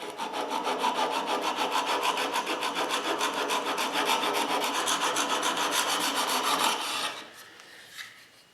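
A chisel held in a sharpening jig rasps steadily back and forth on the rough side of a sharpening stone, close and loud with even strokes, then stops near the end leaving faint scrapes.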